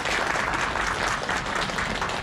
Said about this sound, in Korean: 다 같이 큰 박수 한번 보내주시죠.